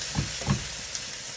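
Onion fries in a pan with a steady, close sizzle. Two soft stirring thumps come early.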